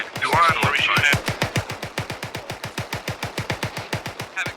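Sustained automatic gunfire in the military shooter Arma 3 rattles off in a long, steady string of evenly spaced, sharp shots, loud and close, with a brief voice at the start.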